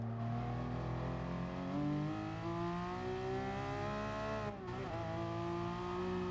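Race car in Gran Turismo Sport on the Nurburgring Nordschleife, engine note climbing steadily under throttle, a brief dip as it shifts, then pulling again, loud and continuous with no voices.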